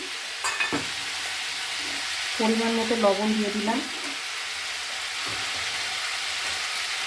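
Peas, ginger paste and tomato sizzle in a frying pan, giving a steady close hiss while someone speaks briefly over it.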